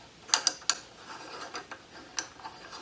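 A metal T adapter is threaded by hand onto the back of a Celestron EdgeHD 8-inch telescope, giving a few sharp, close metallic clicks early on, then softer scattered ticks of the threads turning in a quiet room.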